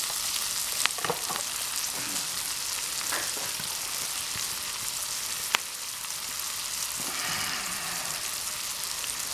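Onions fry in a metal canteen cup for American goulash, a dense, close sizzling hiss with a few sharp clicks and stirring scrapes, no voices.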